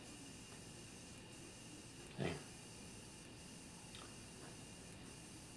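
An airbrush sprays cleaner through to flush out leftover paint, a single short hiss of spray standing out above a low steady background hum.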